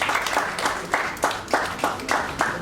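Crowd applause at a Lagos State Safety Commission calendar competition ceremony, sustained clapping with rhythmic bursts swelling every half second or so, fairly close and steady throughout.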